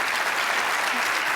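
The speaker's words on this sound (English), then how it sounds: "please join me in a resounding round of applause for the wonderful Doris Kearns" Applause for historian Doris Kearns Goodwin at the 2022 Irgens Symposium, a dense, steady roar of many hands clapping at once that fills the hall without pause.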